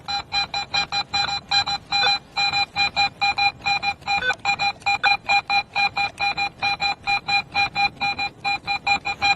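A Garrett metal detector in pro mode, wiggled over a target, beeps in a fast, regular pulsing pattern, dozens of short bright tones repeating evenly and fairly loudly.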